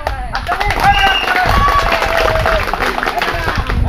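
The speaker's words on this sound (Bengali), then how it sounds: "এটা হাত তালি সবাই" A group clapping hands at an outdoor tug-of-war game, loud steady clapping mixed with crowd chatter and shouting voices throughout.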